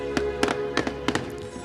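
Firecrackers and fireworks going off at the Mysore Dasara torch light parade, several sharp bangs spaced irregularly over a low crowd background, fairly distant and moderate in loudness.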